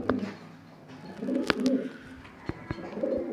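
A male pigeon coos close by in soft, low, rolling phrases, with a few sharp clicks and rustles between the calls.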